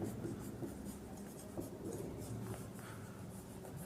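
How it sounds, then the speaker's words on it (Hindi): Chalk or marker scratching steadily across a board in a physics lecture room, a continuous close scraping with brief strokes and pauses, no voice over it. "सब्जेक्ट लिख देता हूँ यहाँ पे"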